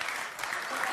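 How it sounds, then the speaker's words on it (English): Dense, steady applause with cheering from a live audience at a dating talk show fills the whole second, loud and close with no pause. "Why are you cheering that?"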